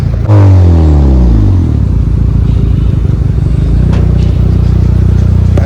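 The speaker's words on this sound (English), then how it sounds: "Backfire" A built Honda Civic with an R18 engine runs loud and close, revving with a deep, rough, clattering tone and a few sharp pops late on.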